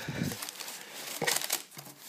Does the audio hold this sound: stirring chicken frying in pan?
no